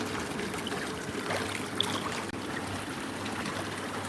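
Pool water moving steadily in a continuous wash with soft trickling and faint splashes, close by and even in level, with one brief knock partway through.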